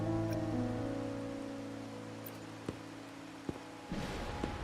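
Rain falls in the Wuthering Waves video game while exploring Rinascita, a soft steady patter under a fading musical tone, with a few sharp drop taps and a brief rise in rainfall near the end.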